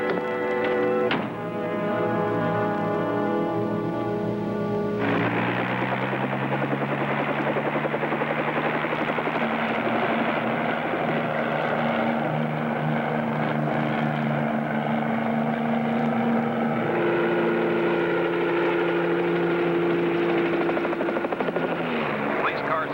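A helicopter's rotor chops steadily and loudly throughout, a thick whirring drone with a shift in pitch partway through, and no talking over it.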